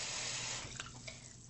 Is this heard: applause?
no